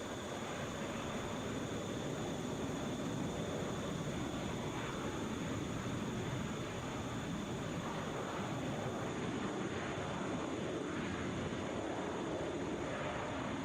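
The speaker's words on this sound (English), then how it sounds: "That is an Airbus A321." A Delta Airbus A321 airliner on Delta Flight 874 passes near Atlanta's airport with a constant, broad jet roar that stays loud and even throughout, with no one talking.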